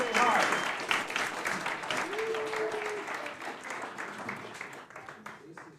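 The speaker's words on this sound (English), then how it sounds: "Round of applause." Audience applause fills a hall at a demoscene beginners' seminar, loud at first and then thinning out over several seconds, with a few voices and a whoop mixed in.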